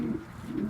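A racing pigeon coos low and close, two soft throaty rolls in under a second.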